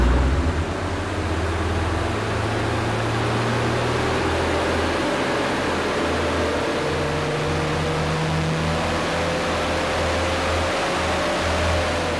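Air conditioning runs inside a Toyota with a 1HZ diesel engine, a loud, steady broadband rush of blowing air with a low hum beneath, continuous throughout and free of talk.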